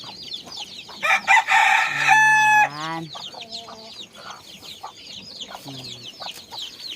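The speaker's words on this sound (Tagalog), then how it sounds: "Kaya dami-dami pong mga bagong manok ni Tatang." Chickens cluck steadily close by while a rooster lets out a loud, drawn-out crow, then fainter calls follow among the flock.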